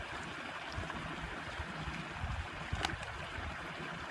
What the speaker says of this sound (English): a little waterfall behind me